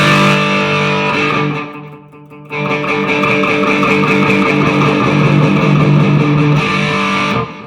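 An electric guitar played through a PedalPCB Muroidea Rat clone distortion pedal, thick sustained distorted chords ringing loud and steady, with a brief dip before resuming, no talking.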